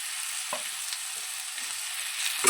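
Potato and cauliflower pieces fry in hot oil for cauliflower samosa filling, giving a steady close hiss with a few scraping stirs and a louder clatter at the end, no voices.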